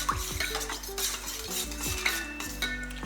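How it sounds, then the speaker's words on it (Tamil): Rice seasoned with salt and turmeric is stirred in a metal pot, giving quick rhythmic scrapes and light clinks of the spoon against the pan over a faint sizzle. "இதை நல்லா மிக்ஸ் பண்ணி விட்டுடலாம்."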